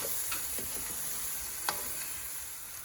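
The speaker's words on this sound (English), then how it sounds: "So it's going to be on low gas and we're going to fry the rice off." Rice frying for akhni in a pot over low gas, a steady soft sizzle with a few scraping stirs and one sharper clink, no voices.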